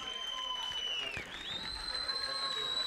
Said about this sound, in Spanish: Fuerte el aplauso, por favor, para Rocío García, Natalia García y Judith Torres Peire.